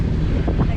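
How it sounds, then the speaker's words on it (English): Strong, gusty wind buffets a sailing boat making a crossing, a loud, continuous low roar of rushing air over the microphone, close and dense, lasting under a second. "we're getting gusts of up to 30 knots, but pretty consistent around 18 to 20 knots"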